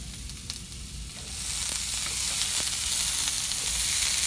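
Carrots sizzle and fry in a hot pan as they are stirred, a steady bright hiss that grows louder after the first second, with occasional soft scrapes.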